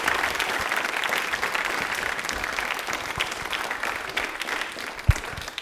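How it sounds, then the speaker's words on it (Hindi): A studio audience at a Rajasthani general knowledge quiz show gives a contestant loud, sustained applause, dense clapping from many hands that stays strong throughout, with one sharp thump near the end. "जोरदार वाली तालियां"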